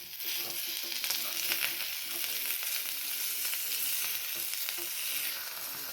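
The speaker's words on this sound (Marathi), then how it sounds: "आणि याला आणखीन 2 मिनिटं असं भाजू द्या." An omelette fries in a pan with a little oil over low heat, giving a steady, close, even sizzle that carries on without a break and with no voices.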